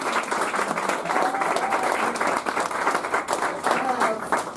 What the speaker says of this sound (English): Round of applause for Rosa.